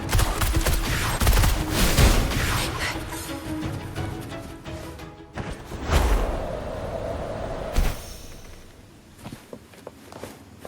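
Bursts of rapid gunfire in Wuthering Waves come in loud, dense volleys broken by brief pauses, with footsteps and whooshing effects between shots.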